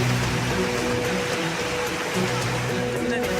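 Heavy, continuous monsoon rain pours down in a steady, dense hiss that stays loud and unbroken throughout, with a faint low tonal murmur underneath.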